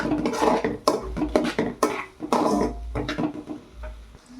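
Grated egg being stirred in a pan with a utensil, sounding as repeated scraping and clinking strokes of metal against cookware at close range, in an irregular rhythm with brief pauses between strokes.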